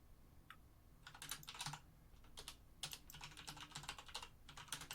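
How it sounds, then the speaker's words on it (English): Quick bursts of computer keyboard typing, irregular clusters of light key clicks at a close, quiet level with no talking. "I'm typing"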